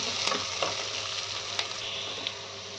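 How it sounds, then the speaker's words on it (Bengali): Onions frying in a pan for a cauliflower and peas curry: an even, close sizzling hiss with a few soft stirring taps and no talk. "লাল ভাবটা আসা অবধি ভালোভাবে পেঁয়াজগুলোকে ফ্রাই করতে হবে।"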